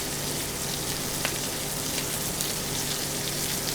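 Rib-eye steaks fry in a hot pan, giving a steady, dense sizzle and crackle of fat and juices that holds close and even, with a few sharper pops.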